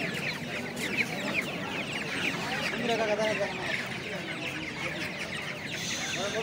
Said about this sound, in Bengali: এই দোকানে দেখেন মাশাআল্লাহ অনেক বড় বড় সাইজের বাচ্চা রয়েছে, টাইগার মুরগির বাচ্চা।